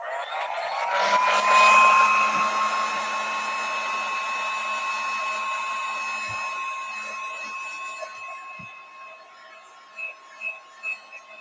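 Handheld hair dryer blowing steadily on art papers, a loud continuous whine with a strong steady tone that swells early then holds, a few light taps near the end.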